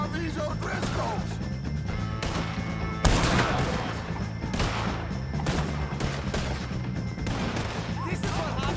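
Gunfire rings out in a shootout with the O'Driscolls in Red Dead Redemption 2, with repeated sharp shots and crashes over a constant background rumble and distant shouting voices.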